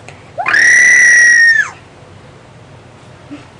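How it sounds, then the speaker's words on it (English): A toy baby bird gives one loud, high, bright chirping squeal lasting about a second, with a quick upward start and a falling tail, heard alone in a quiet room. "A baby bird."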